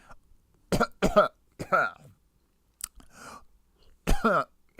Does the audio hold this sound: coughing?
yes